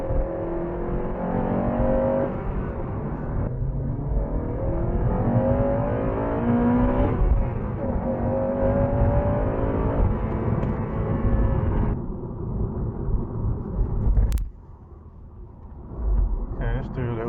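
A Honda Civic Type R FN2 hatchback with a VTEC engine pulls hard in second gear, its engine note rising steadily and loudly before easing off after a gear change, heard from inside the car.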